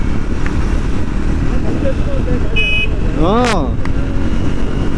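A Triumph Speed 400 motorcycle's engine drones steadily in traffic, rising in pitch as it accelerates. Wind buffets the ride, a short voice comes in now and then, and another vehicle's rising whine sweeps past near the end.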